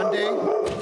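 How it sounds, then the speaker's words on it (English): A pet dog barks or yips briefly in the background while someone speaks over it, the dog sound short and partly masked by his voice. "That's my dog wanting to get into the show."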